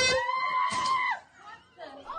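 Piercing scream from a psychological horror video game, a loud sustained shriek that cuts off abruptly, followed by quieter voiced sounds.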